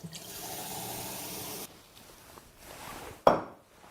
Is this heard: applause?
no